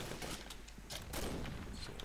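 P90 gunfire in the shooter game Combat Arms: quiet bursts of rapid shots in a few separate volleys over a steady background hiss.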